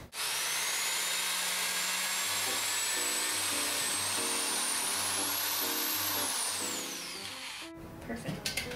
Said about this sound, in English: I drill a hole right.